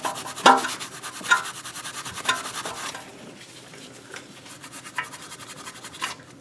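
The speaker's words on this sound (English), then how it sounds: "I'm going to clean the face of this stainless steel piston here," Rubbing and scraping on the face of a stainless steel brake caliper piston during an Audi Q5 front brake job, a run of close scratchy strokes with sharper bursts early on that settle into lighter, softer scrubbing.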